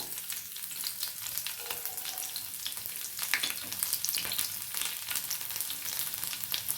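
Garlic frying in hot oil in a pan gives a soft, steady sizzle throughout, fairly quiet and close, with no voices.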